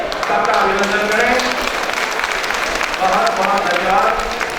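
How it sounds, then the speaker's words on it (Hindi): An audience at a community wedding-matchmaking ceremony in Kishangarh claps continuously, a dense steady wash of applause with voices mixed in throughout. "सभी ताली बजाकर सबका अभिनंदन करें"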